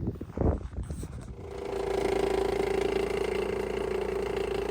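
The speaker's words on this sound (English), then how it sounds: "Well, I just started the engine for this morning." A nearby camper van engine turns over on a cold morning and settles into a loud, steady idle with a slightly uneven, rough hum that continues to the end.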